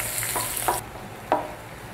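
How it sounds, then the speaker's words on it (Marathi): Garlic sautés in a pan with hing and chilli pieces, making a close, light crackle that turns quieter partway through, broken by two brief scraping stirs. "हा देखील आपण परतून घेऊयात"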